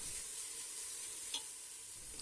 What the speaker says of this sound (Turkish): biberleri ilave edip ve tahta kaşık yardımıyla güzelce karıştırıyorum.